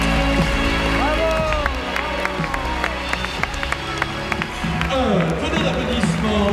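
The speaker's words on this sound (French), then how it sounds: "Un bon applaudissement pour Frédéric Adelstein" Audience applause and crowd noise fill a circus big top after a lion act, with steady dense clapping under music and an announcer's voice, swelling again near the end.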